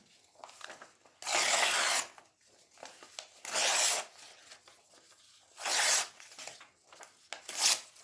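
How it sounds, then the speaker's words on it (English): Scissors cutting across paper portraits, four or five long rasping slices separated by short pauses and quieter rustling, close and clear with no talking. "I'm going to cut them across."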